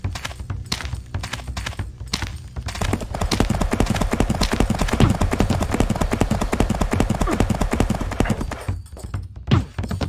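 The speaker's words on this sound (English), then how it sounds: "Runaway horse!" Runaway horse galloping in a video game, a dense rapid run of clip-clop hoofbeats that builds from about three seconds and carries on loudly to the end, with a brief whinny near the close.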